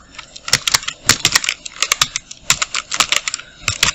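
Quick, irregular clatter of keys on a computer keyboard while Tamil text is typed into a visiting card design, with close, crisp keystrokes in short bursts and no talk.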